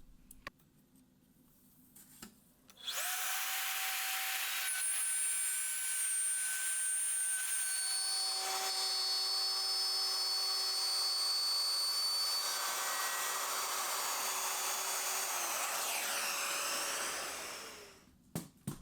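A handheld router fitted with an edge guide cuts connecting arcs through plywood, whining loudly and steadily for about fifteen seconds after a brief quiet start, then spinning down.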